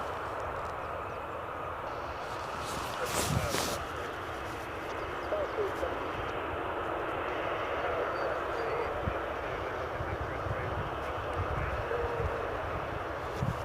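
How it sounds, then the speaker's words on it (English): A Ryanair Boeing 737 departs Bristol Airport for Warsaw. Its jet roar is faint and distant, a steady wash of engine noise lasting the whole stretch, with a voice talking over it. "So you're looking at Ryanair 737 off to Warsaw this morning."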